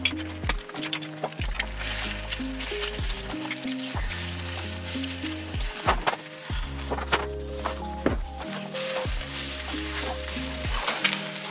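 Eggs frying in a pan give a steady, close sizzle with occasional utensil clinks, partly masked by rhythmic background music playing over the whole stretch.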